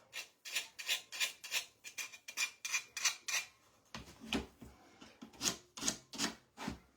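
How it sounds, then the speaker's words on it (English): Sandpaper is rubbed by hand against a wooden edge in quick, steady back-and-forth strokes, a dry rasping scrape repeated about twice per second, close but soft. "sanding it off."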